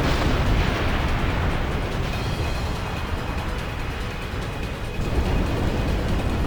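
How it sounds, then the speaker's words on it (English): A huge explosion from a tanker blast that levels a building in the Final Fantasy X video game, a dense, continuous roaring rumble that stays loud and heavy throughout, with a slight dip and renewed surge, without voices. "It's a pretty big explosion."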